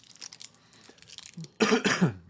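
Quiet shuffling, then two harsh coughs close by, loud and abrupt near the end.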